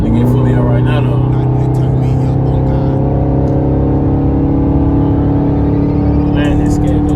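A 2021 Dodge Charger Scat Pack engine drones heavily from inside the car as it accelerates, a loud steady rumble beneath someone talking.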